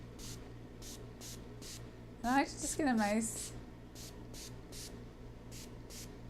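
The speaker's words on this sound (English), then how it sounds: "take the spray, the ionic spray, and you're going to spray the gloves" An ionic spray bottle gives several short, crisp spritzes onto wet gloves, evenly spaced before and after a brief stretch where a person speaks over the hissing bursts.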